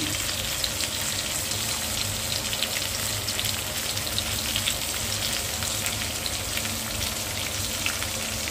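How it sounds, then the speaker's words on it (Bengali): Long pepper and white pepper frying in a pan give a steady, dense sizzle and crackle throughout, close and continuous with no speech. "দুটো পিপুল আর 5-6টা হোয়াইট পেপার, 7টা হোয়াইট পেপার দিচ্ছি, দিয়ে একসঙ্গে ভেজে নিচ্ছি।"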